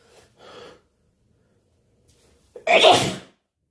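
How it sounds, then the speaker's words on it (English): A single loud, explosive sneeze bursts out after a couple of quiet sniffly breaths, close to the microphone. "I'm gonna sneeze."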